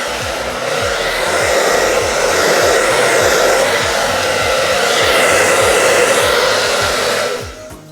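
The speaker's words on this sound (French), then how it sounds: "il ne regarde pas le sèche-cheveux" A hair dryer blows steadily and loudly for nearly eight seconds as a dog is trained not to fear the noise, its whooshing drone swelling slightly in the middle before cutting off at the end.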